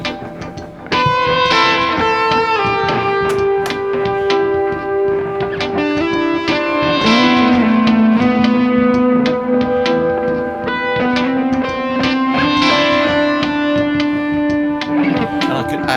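Electric guitar played live over a looper with effects and distortion, sustained layered tones and shifting melodic notes running loud and continuous in a home setting.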